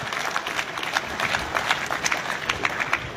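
An audience at a government boys' model higher secondary school annual day in Rajouri gives loud sustained applause to welcome a guest, dense overlapping claps with crowd noise.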